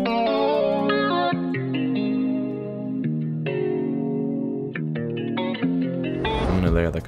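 A sampled riff loop in FL Studio, pitched down a couple of semitones and heavily processed with chorus and distortion effects, plays continuously and loud, with sustained harmonic tones and a few brief breaks.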